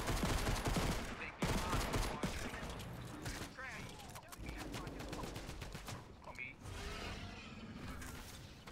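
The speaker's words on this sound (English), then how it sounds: "I'm shooting at somebody else" Fortnite gunfire rattles off in rapid bursts, loud close shots and automatic fire crowding the opening seconds, then thinning into sporadic shots and mechanical clatter.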